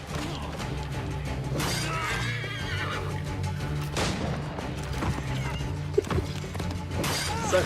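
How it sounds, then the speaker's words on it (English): A horse in Assassin's Creed 3 whinnies loudly after being shot, its neighs rising over clopping hooves, while crashing and shattering noises break in at intervals. "Sucks when someone shoots your horse,"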